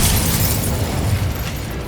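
Incendio fire spell cast in the video game Hogwarts Legacy, a dense, loud roaring burst of flame that stays full and noisy throughout the short moment, with no speech.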